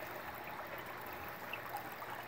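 Water running steadily through a mini gold sluice loaded with dirt, a soft continuous trickling flow heard close and alone at low volume.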